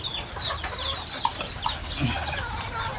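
Chickens at a morning feeding cluck softly and intermittently, with a few brief calls over a faint, busy outdoor background.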